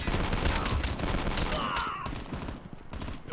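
HS2126 shotgun firing in Call of Duty Mobile, heard as a run of rapid blasts and battle gunfire that thins out toward the end, with no one talking.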